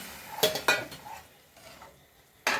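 A spoon stirs and mashes cowpea curry in a kadai, giving a few sharp clinks and scrapes against the metal with quiet pauses between, close up and fairly soft.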